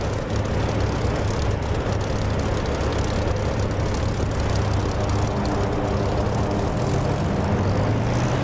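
Simulated aircraft taking off in the DCS flight simulator game, a steady loud engine roar with a low drone throughout, rising slightly in pitch toward the end, with no speech.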